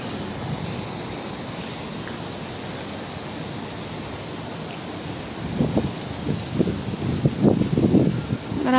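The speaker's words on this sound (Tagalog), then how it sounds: "Gumagalaw na yung mga halaman, oh. Ayan, oh. Lakas pa talaga ng hangin dito." Steady wind roars over leaves and plants in a broad hiss, with stronger rustling gusts building toward the end.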